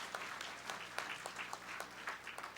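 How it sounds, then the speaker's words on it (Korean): An audience at a founding ceremony of a provincial residents' association claps, steady rapid applause at moderate distance with no voices over it. "여러분 다시 한번 뜨거운 박수 부탁드리겠습니다."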